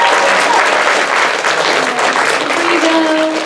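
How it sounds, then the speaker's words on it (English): An audience at a student culture show gives the directors a sustained round of loud, dense applause, with faint cheers and voices woven through the clapping. "let's give another round of applause for our directors"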